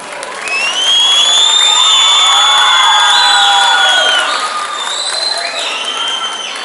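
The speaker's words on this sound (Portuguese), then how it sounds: "Aplausos, Dildo Graúna!" A school audience at a municipal elementary school event bursts into loud applause mixed with high-pitched cheers, whoops and children's shouts, a sustained crowd roar that swells quickly and eases slightly toward the end.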